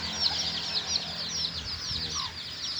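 A mother hen tending thirty-two chicks clucks steadily alongside the constant high peeping of the chicks, a close, continuous farmyard chorus with no talking.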